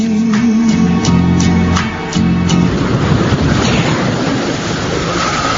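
Seaside waves wash and hiss continuously under loud wind buffeting. A tonal background fades out early, leaving broad, rushing surf noise up close.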